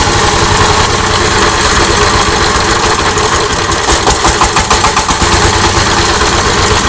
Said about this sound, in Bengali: যাক, ইঞ্জিন কিন্তু স্টার্ট হয়ে গেছে